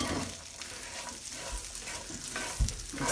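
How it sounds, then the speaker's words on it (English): Ground spices stirred into hot sizzling butter in a pan for spiced pecans, a steady frying hiss with soft scraping stir strokes close by and no talking. "So now that that butter is nice and set, we're going to throw the spices in here."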